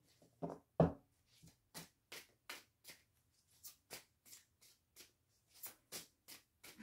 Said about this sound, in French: je sais plus si j'ai envie de tirer des cartes